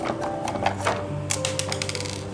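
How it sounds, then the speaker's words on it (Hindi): Buttons on a telephone dial pad click during a repair with the screws being removed, a close series of sharp, irregular taps and clicks over a faint steady hum, with no voices. "देखें इसमें से क्लिक की आवाज़ भी आई"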